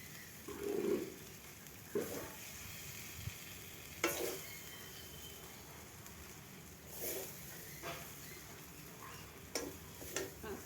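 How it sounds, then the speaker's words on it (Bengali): Chicken being sautéed and stirred in a pan for green chicken chow mein, with a low continuous sizzle and scattered clinks and scrapes of a spatula on the pan, no talk. "বন্ধুরা কষতে কষতে একদম চিকেন রেডি আমার"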